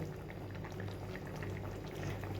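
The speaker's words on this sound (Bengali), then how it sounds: "মাছগুলো দিয়ে আমি আরও পাঁচ মিনিট একটু ফুটিয়ে নেব" Thin Bengali fish curry with ridge gourd, bottle gourd and potato simmers in a pot, a soft, steady bubbling and popping heard close and quiet, with no talk.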